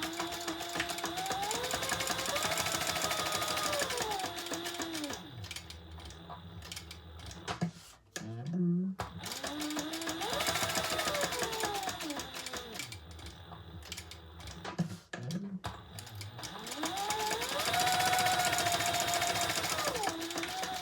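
A sewing machine stitches a fabric luggage tag, running in three long stretches of steady rapid whirring with short pauses and handling noises between them, heard close and fairly quiet.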